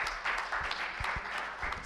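Audience applause at a CSRRF programme event in India, a modest spread of clapping held steady for about two seconds at moderate distance, with no one talking over it.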